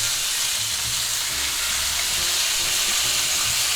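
Thick boneless pork chops sizzling in a cast iron skillet, a loud steady crackling hiss throughout with faint low knocks beneath it.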